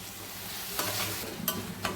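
Tomato goes into a pan with ginger-garlic and a little oil, a steady sizzle broken by a few sharp scraping strokes of a spoon as it is stirred.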